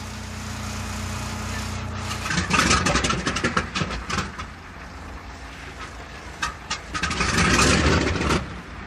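A B-29 bomber's piston engine starts: a low idle rumble swells into loud coughing, sputtering bursts, eases briefly, then builds again into a rough, heavy roar, near and uninterrupted by talk.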